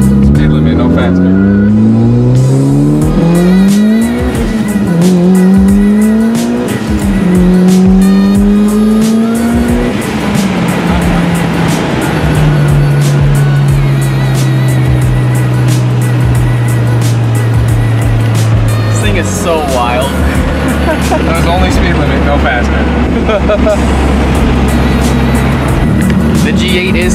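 A 500 hp Mitsubishi Evo 8 accelerating hard, its engine climbing loudly through several gear pulls with sharp rises and drops, then droning at steady speed, close and dominant, with occasional talk over it.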